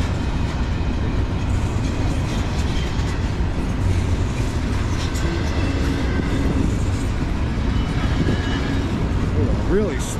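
A train rolls past on the Lehigh Line on a cold, windy day, a continuous heavy low rumble with wheel and car noise throughout, fairly close and loud.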